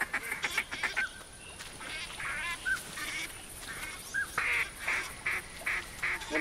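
Ducks quack and geese honk in repeated bursts of calls from a hunting video game, the waterfowl cries rising and falling near and loud, with no talk over them.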